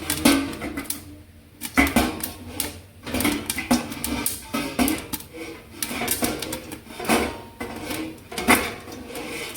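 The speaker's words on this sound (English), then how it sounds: "Can you see the corn popping?" Popcorn kernels popping in a pot with the lid resting halfway on, giving irregular sharp pops and light rattles scattered across the stretch, some louder bursts among quieter clicks.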